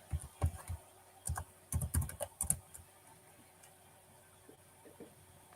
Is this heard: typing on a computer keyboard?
yes